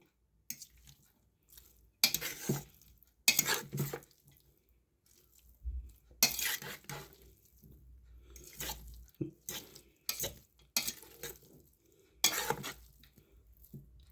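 Beetroot salad is stirred in a bowl, heard as scattered wet, clinking bursts of a spoon against the dish separated by quiet pauses, close and fairly soft.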